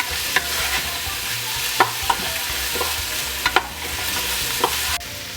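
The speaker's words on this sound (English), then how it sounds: "So once we've added this, we'll stir fry for another 1 to 2 minutes." Crushed spices stir-fried in a pan for a cinnamon lamb curry, a steady sizzle broken by sharp, irregular scrapes and clicks of the spatula, close and moderately loud with no talking.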